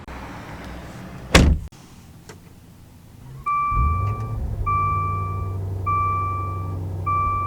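A 2021 Maserati Levante GTS door shut with a single solid thud, then a quieter cabin where a repeating electronic chime beeps steadily over a low engine hum.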